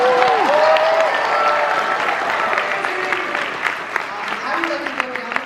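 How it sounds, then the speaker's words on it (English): An audience at the Otakon 2024 convention theater radio show gives a sustained round of applause, with voices cheering and calling out over the clapping, which thins into scattered claps near the end. "There's a round of applause."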